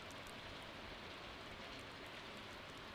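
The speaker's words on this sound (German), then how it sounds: "Oh, es regnet." Steady, dense hiss of rainfall in the video game Stardew Valley, faint and continuous, with no voices or other distinct sounds.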